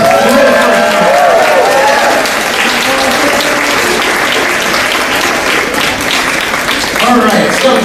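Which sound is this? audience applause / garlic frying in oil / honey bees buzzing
audience applause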